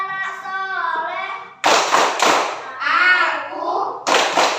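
Schoolchildren in a classroom chant the 'tepuk anak soleh' routine, sharp loud group claps alternating with sung and spoken young voices in a lively rhythm.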